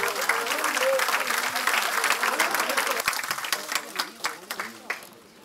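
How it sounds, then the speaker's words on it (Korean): Warm applause fills the hall at a Democratic Party floor leader election meeting during a flower presentation, dense clapping that thins into scattered claps near the end, with some talking underneath. "뜨거운 박수 부탁드리겠습니다."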